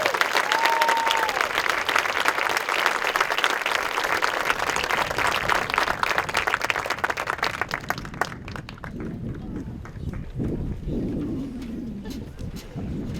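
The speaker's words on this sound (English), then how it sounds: "Let's give these athletes another hand round of applause." A ceremony audience claps for athletes at a school athletic awards event, with dense applause for about eight seconds that thins to scattered claps and faint murmur. A brief whistle-like tone sounds near the start.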